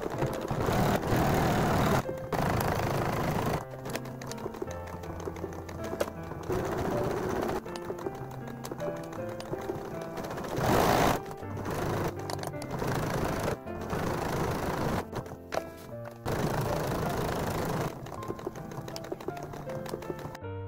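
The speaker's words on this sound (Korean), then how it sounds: "주머니 입구를 제외한 나머지 둘레를 두 줄로 박음질 해줄게요" A sewing machine runs in bursts, stitching two rows around a pocket on a canvas bag, a steady mechanical whir that stops and restarts several times with short pauses in between, close and fairly loud, no talking.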